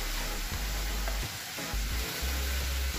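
Chopped tomatoes hitting hot oil in a pan for a fusilli tomato sauce, giving a steady close sizzle and frying hiss with a few stirring scrapes, no voices.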